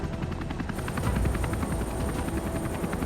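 A Huey helicopter flies overhead above Sydney Harbour, towing a lifting line: a loud, steady rotor chop with pulsing blade beats and broad engine rumble, continuous and close throughout, with no voices.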